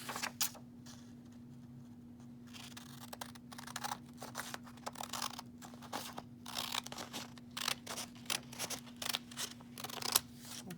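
Scissors trim a small flap of paper with a quiet series of close, crisp snips and crunchy cuts, irregular in rhythm, over a faint steady background hum.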